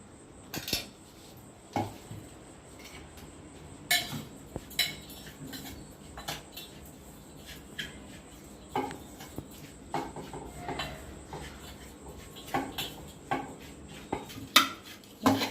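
A spoon clinks and scrapes against a bowl, mixing spice powder, sugar and oil in an irregular series of sharp metallic taps and stirs, close and clear with no talking.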